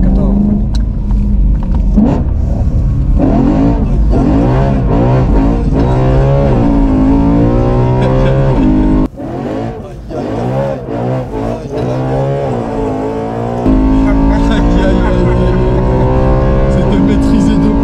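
A BMW M5 with a V10 engine and no catalytic converter revs loudly, repeated rising and falling engine sweeps heard from inside the car with people talking over it.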